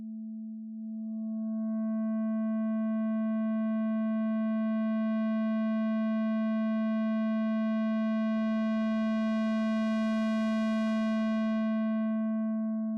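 A steady synthesizer tone built in VCV Rack, its odd harmonics stacking in one by one so the timbre grows brighter and buzzier, with a noisy burst joining midway before cutting out near the end; no voices.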